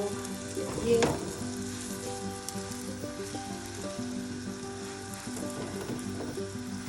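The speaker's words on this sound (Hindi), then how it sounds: "थोड़ा सा ऑयल आप यहाँ पे डालें ताकि आपके पराठे की एक साइड जो है वो पके" Aloo paratha frying in oil on a pan, a steady close sizzle with a brief louder burst near the start as oil hits the hot surface, continuing without talk.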